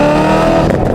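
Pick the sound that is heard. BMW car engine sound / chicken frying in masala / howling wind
BMW car engine sound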